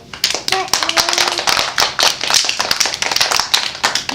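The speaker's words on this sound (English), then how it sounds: "Can we give him a round of applause?" A kindergarten class gives a round of applause, with small hands clapping unevenly in a busy, close patter that carries on for a few seconds while a voice briefly sounds over it.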